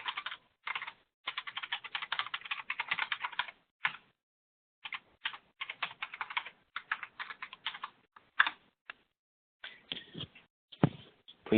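Username and password typed on a computer keyboard, quick bursts of clicking keys separated by short pauses, close and clear with nothing else heard.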